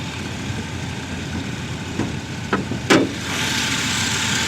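A GM 3900 V6 in a van idles steadily with a low, even rumble and a slight exhaust leak. A few short clicks and a knock cut in before the running engine noise swells a little.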